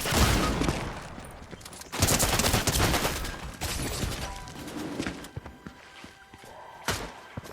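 Gunfire in the video game Fortnite, including shotgun fire, comes as dense bursts of shots and blasts up close. It runs loud and continuous at first, then breaks into scattered, irregular reports.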